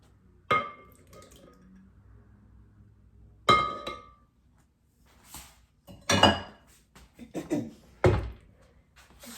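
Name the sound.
adding two room-temperature eggs to cookie dough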